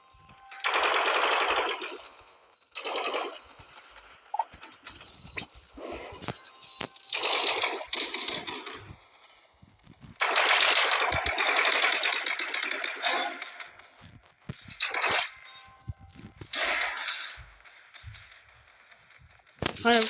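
Rapid bursts of AK-47 gunfire in a shooting video game, repeated in loud clusters over the whole stretch, with short gaps between them and people talking in between the shots.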